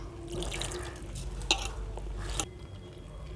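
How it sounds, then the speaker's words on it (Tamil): Water trickles and pours steadily into flour for murukku dough, with a couple of soft splashy drips, no talking. "இப்போ தண்ணியை ஊற்றிக்கலாம்."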